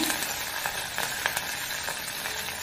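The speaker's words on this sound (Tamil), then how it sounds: "பூண்டை லைட்டாக வதக்கி வச்சுக்கோங்க." Garlic sautéing lightly in hot oil with green chillies and curry leaves for ivy gourd fry, a dense, close, continuous sizzle with faint stirring taps throughout.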